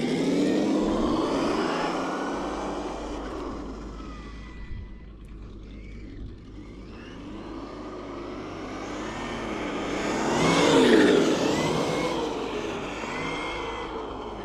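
Kyosho USA1 RC monster truck on a 4S battery with its stock 2400 kV motor and an onboard sound module, giving a loud continuous engine-like drone that rises and falls as it drives, with no talking.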